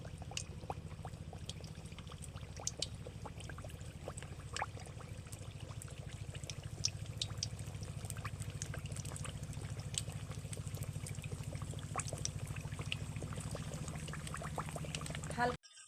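Semolina snacks frying in hot oil, giving a steady, continuous sizzle with scattered crackles throughout, while a voice talks at times.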